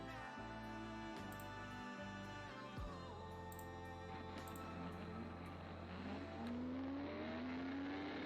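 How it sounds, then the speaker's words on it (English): A Formula SAE race car's engine revs hard and runs steadily throughout, rising and falling in pitch as it accelerates, close and loud with no talk over it. "This is a Formula SAE car."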